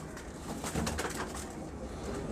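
Pigeons cooing in low, soft rounded calls, close by with a faint rustling background and no talk over them.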